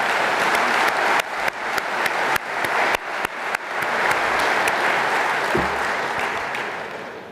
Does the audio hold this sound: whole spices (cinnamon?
no